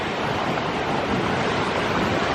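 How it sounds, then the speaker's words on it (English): Strong spring wind buffets the seashore with steady, loud broadband roar and surf wash, continuous and close with no pauses or voices. "It's just so windy, you know, in spring."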